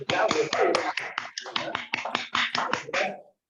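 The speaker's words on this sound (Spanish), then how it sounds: "nuevamente a ver un aplauso para su compañera" Classroom applause from a group of students for a classmate who has just presented, a ragged run of close claps with uneven rhythm that stops abruptly at the end.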